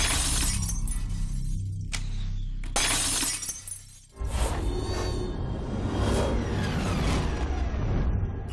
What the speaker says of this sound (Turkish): Can Bey, Akdeniz tekniğiyle yaptığı atışında 5 cam levhadan 3'ünü geçmeyi başardı.